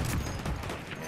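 Battlefield 1 multiplayer gunfire, a brief, dense burst of close shots and crashing impacts lasting about a second.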